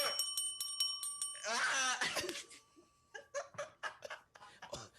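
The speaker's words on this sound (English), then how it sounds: "Why are you laughing at my bell, Alex?" A small bell rings in quick repeated strikes, followed by bursts of laughter and breathy giggling close to the listener.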